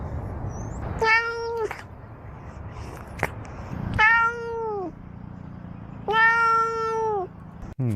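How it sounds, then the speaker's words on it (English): Cats meow near the mic, three drawn-out harmonic meows spaced a few seconds apart with faint background noise and a brief click between them. "I want to hear those meows again."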